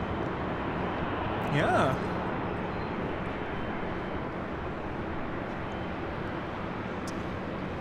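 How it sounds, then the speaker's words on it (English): A Southwest Airlines Boeing 737-800 jet at LAX gives a steady, moderately loud engine rush, with a short voice and a brief whistling sweep early on before the drone carries on alone. "Southwest Airlines Flight 1438 heading to Chicago Midway on the 737-800."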